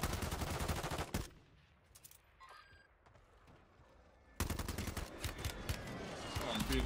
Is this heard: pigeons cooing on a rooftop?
no